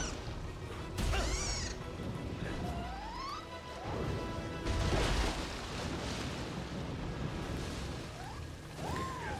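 A cat meows in the action video game Nioh 3, short mewing calls rising over a busy bed of crashes, impacts and game noise, fairly quiet and with no talking.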